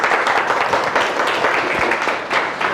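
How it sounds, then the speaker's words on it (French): Audience applause at a community gathering in Ménaka, a dense, steady wash of many hands clapping at moderate loudness with no voices standing out. "Merci pour les applaudissements."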